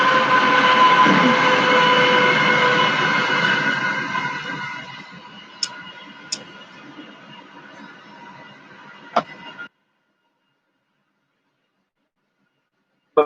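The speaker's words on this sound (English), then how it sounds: "Train." A train rumbles past, loud at first and gradually fading away over several seconds, followed by a few sharp clicks and then silence.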